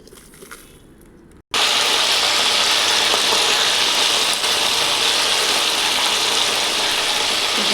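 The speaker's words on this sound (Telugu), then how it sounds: "మిక్సీ జార్లోకి ఇవన్నీ వేసుకోవాలి వేసుకొని మిక్సీ వేయాలి" A kitchen mixer grinder with its jar loaded with ingredients starts abruptly after a quiet moment and then runs with a loud, steady, harsh whirring roar.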